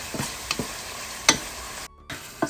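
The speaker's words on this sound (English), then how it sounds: "With again some sweet chili powder, the fish spice mix, and the garlic powder. And we mix it all." A spoon scrapes and stirs sweet chili powder, fish spice mix and garlic powder together for scallops, a few short close taps and scrapes in an otherwise quiet kitchen.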